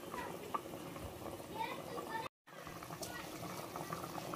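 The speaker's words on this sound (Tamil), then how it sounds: "தண்ணி நல்லா கொதிச்சிருச்சு" Water boiling in a pot while making mutton biryani in a pressure cooker, a steady bubbling hiss with kitchen clatter and a brief dropout midway.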